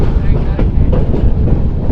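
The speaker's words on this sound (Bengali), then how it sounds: "এটা কক্সবাজার এক্সপ্রেস রাতে আসলো ঢাকা থেকে।" Cox's Bazar Express train, arrived overnight from Dhaka, at Cox's Bazar railway station: a loud, steady rumble of railcars rolling close by, with a faint rhythmic clatter throughout.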